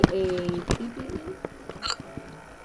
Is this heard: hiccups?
yes